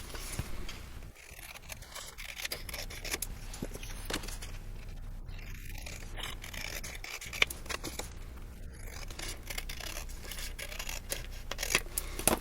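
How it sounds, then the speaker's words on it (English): Repeated snipping and slicing of long scissor blades through paper while making a tote bag, steady and close, with soft rustling between cuts and no talking. "using a long handled or long bladed scissors, as opposed to little ones like this, you'll get a nice long straighter cut"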